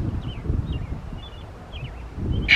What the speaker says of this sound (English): All of a sudden, it's very windy.